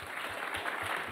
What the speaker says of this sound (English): please join me in a round of applause and thanks to them